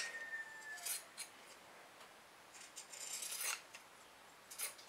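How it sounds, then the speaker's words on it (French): Pinking shears snipping through surplus fabric, a few quiet, close crunching cuts spaced irregularly with soft rubbing in between. "je vais découper tout le surplus de tissu à l'aide de mes ciseaux cranteurs"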